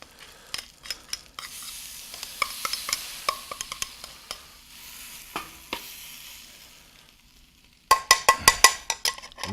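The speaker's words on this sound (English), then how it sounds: "We are going to move the beans over to one side, and this pan's going to do double duty for us." Beans pushed across a hot sizzling pan with a utensil, scraping and tapping against the metal over a soft frying hiss, then a quick burst of sharp, loud clinks near the end.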